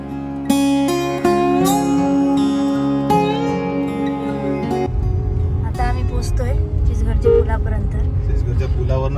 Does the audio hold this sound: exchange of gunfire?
no